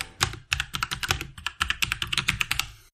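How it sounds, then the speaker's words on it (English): Rapid typing on a computer keyboard in a terminal, the keys clacking in quick bursts of strokes with short pauses between, close and clear with no voices. "let's open up a terminal, type in .NET New Podcast"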